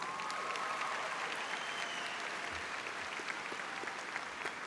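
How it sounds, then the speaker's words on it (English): Audience at a high school graduation applauding parents, a faint, distant and continuous wash of clapping from a large crowd in a big hall. "Let's give them a big round of applause."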